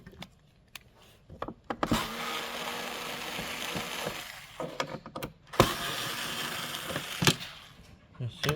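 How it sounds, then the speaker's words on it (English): A screwdriver works two screws out of the stand base of a Samsung F27T450FQR monitor, giving a close, loud whirring grind in two long bursts broken by sharp clicks and clacks. "Now we need to remove those two screws in there."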